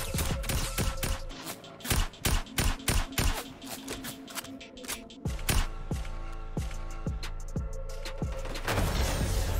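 Rapid gunfire from a Tactical Assault Rifle in Fortnite, bursts of sharp, evenly spaced shots in quick rhythmic strings, loud and close, with a near-continuous stream of cracks in the second half.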